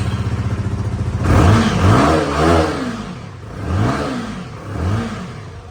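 A Benelli motorcycle engine in a showroom idles with a rapid, even putter, then revs up in several loud swelling bursts that fall back between each throttle blip, close and with no talking.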